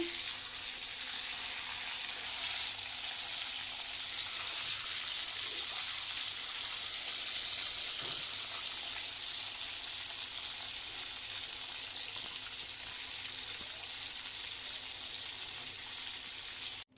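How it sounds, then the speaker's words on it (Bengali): A pomfret fish fries in an oiled pan, making a steady, soft sizzle and crackle that carries on without a break and with no one speaking. "এবার এই মাছটা ভেজে নেব"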